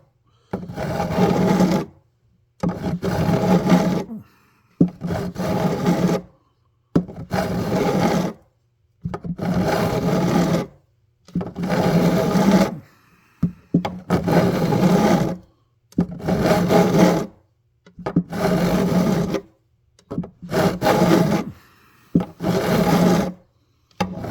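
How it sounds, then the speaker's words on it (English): Frets on a Yamaha FG410A acoustic guitar being dressed with a file: about a dozen rasping strokes, each lasting a second or two with short pauses between, loud and close in a steady back-and-forth rhythm. "Okay, so I'm just gonna keep filing, folks."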